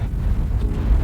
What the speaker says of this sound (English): Very windy, I hope you can hear me.